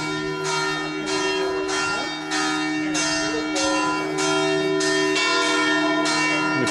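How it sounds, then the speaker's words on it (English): Church bells in a bell tower near Cusano Mutri, Italy, toll in a steady, regular rhythm, loud and resonant with sustained ringing overtones, strokes roughly every second throughout. "It's that bell tower we were looking at."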